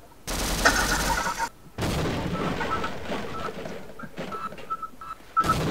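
Blasts and gunfire in the co-op shooter game Sven Co-op, a loud burst opening, then a dense rumbling stretch of explosive noise with sharp pops toward the end.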